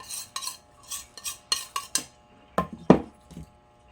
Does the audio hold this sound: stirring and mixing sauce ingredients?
yes